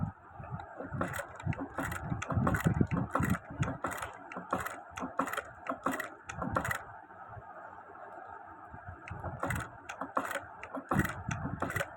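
A zigzag sewing machine stitches a buttonhole, giving a fast mechanical clatter of needle and gears in rapid bursts that pause briefly and restart, close and without talk.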